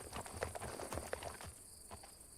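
Horse hooves clip-clop at a walking pace in the video game Legend of Khiimori, a run of soft, fairly quiet steps with faint insect-like ambience behind them.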